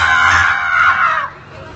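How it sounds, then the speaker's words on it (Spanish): A crowd of women at a clown science show screams loudly, a sustained high shrill burst with some clapping, near and intense before it drops off sharply. "Las puras mujeres van a aplaudir y van a gritar así."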